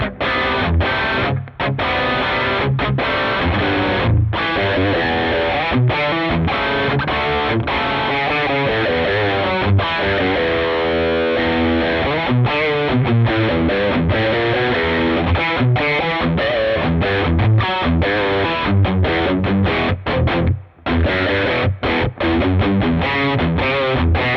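A heavily distorted electric guitar through a Mesa Boogie Mark Series tube amp plays a continuous riff, loud and saturated, with no talking.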